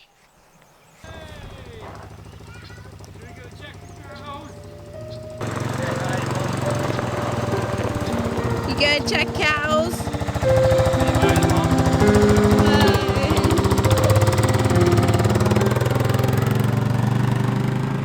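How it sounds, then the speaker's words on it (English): A four-wheeler ATV engine starts about one second in and runs on with a steady rough drone that grows louder, heard close and continuous under brief speech. "starts up the four-wheeler and goes and checks on the cows"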